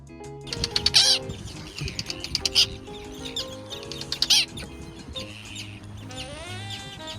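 A seabird colony on Machias Seal Island, with puffins, razorbills, murres and gannets, gives repeated harsh calls and squawks in loud bursts over a low, busy background chorus.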